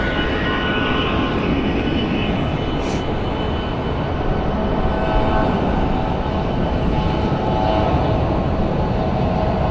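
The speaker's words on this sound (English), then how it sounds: "The next flight followed behind him is Southwest Airlines 3445 going to Kahului, Maui, Boeing 737 MAX 8." A Southwest Airlines Boeing 737 MAX 8 jet at Phoenix Sky Harbor Airport produces a loud, sustained engine roar with a faint whine above it, close and continuous for the whole stretch with no talking.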